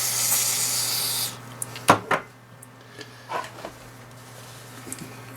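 Contact cleaner sprays from an aerosol can onto an old Jaguar S-Type key. A loud hissing burst lasts just over a second up close, followed by a few sharp clicks and handling knocks over a faint hum.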